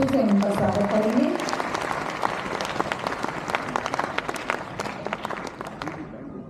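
An audience at a Gita Parichay event claps to welcome a speaker, a loud burst of dense applause that holds steady and then thins out at the end, with a voice heard briefly at the start.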